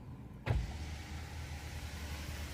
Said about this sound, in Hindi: हमने गाड़ी के इंजन को स्टार्ट कर लिया है।